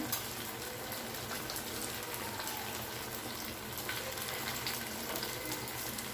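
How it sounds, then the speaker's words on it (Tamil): Paneer shallow frying in oil gives a steady, soft crackling sizzle throughout, fairly quiet and close, with no voices. "நம்ம ஷாலோ ஃப்ரை பண்ணுறதுனாலும் ஷாலோ ஃப்ரையும் பண்ணிக்கலாம்."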